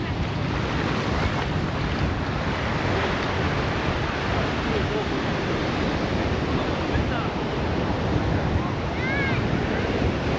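Ocean surf washing steadily onto a beach, a continuous broadband roar with wind buffeting the microphone throughout and no distinct breaks between waves.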